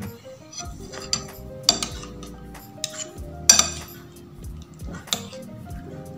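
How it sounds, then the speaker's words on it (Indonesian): A metal spoon stirs food in a bowl during a lunch of soto mie with vermicelli-filled risoles and shrimp, giving scattered sharp clinks and scrapes against the dish over a quiet room, with no talk. "Coba, coba diaduk biar bisa pemirsa pada ngeliat"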